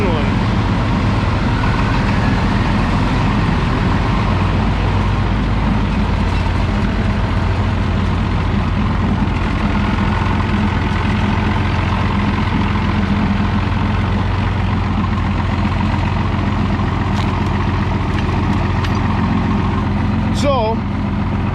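A heavy old tractor engine idles loudly and steadily, a deep rumbling chug that holds throughout with a faint higher squeal near the end.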